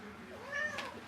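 A cat gives a single short, quiet meow, close by and alone.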